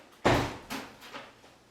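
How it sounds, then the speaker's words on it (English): A shop door blown shut by the wind hits with one loud, sharp slam, then rattles and thuds a few more times as it settles, the bumps fading quickly in a quiet room. "Wind caught the door."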